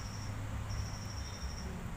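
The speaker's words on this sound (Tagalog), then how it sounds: "Busy tong insekto na to." A small insect gives off a thin, high, steady buzzing whine that drops out briefly and resumes, faint against low background rumble.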